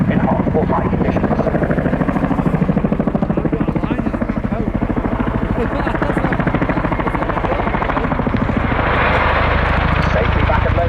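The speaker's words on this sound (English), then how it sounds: "will bring the aircraft back down to ground centre with a tactical descent" An RAF Chinook tandem-rotor helicopter descending tactically at an airshow, its loud, steady rotor thump and engine roar continuous throughout.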